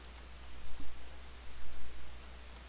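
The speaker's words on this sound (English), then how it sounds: "Looks like rain." Steady rain hiss in The Witcher 3: Wild Hunt, a broad even wash of falling drops with a few gusty swells, no voices over it.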